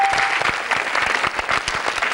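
A game-show studio audience claps steadily in dense, even applause that lasts the whole short stretch, close and fairly loud.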